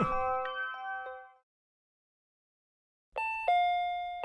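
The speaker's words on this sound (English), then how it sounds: "Ding dong." A doorbell chimes in the video game Sea-lien: a clear ringing chime sequence, then a long silence, then a second ding-dong chime. No talking is heard.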